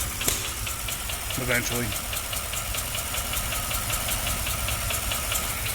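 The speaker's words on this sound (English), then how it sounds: "she does run terrible, and you can hear it clacking away too" A faulty Ford engine idling roughly with a steady metallic clacking knock, close and continuous throughout, with a brief spoken word early on.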